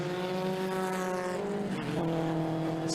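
Historic Sports 2000 race cars circling Donington Park on a green lap, a steady droning engine note with a pitch shift as cars pass, continuous and moderately close.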